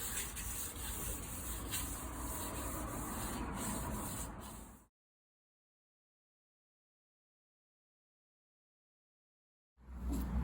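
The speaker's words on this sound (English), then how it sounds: "I'm just going to use some 1200 wet and dry sandpaper in some water with a tiny little bit of fairy liquid" Wet sanding of a dented car panel with 1200-grit wet-and-dry paper and soapy water, a close steady rubbing swish for about five seconds, then silence, then rubbing resumes briefly at the end.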